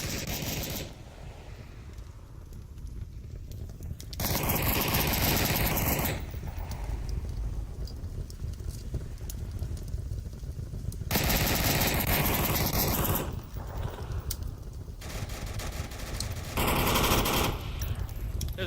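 Automatic and rapid gunfire from a competitive VR shooter match in Onward, with several dense bursts and sustained volleys layered over a continuous busy background, loud and close in places.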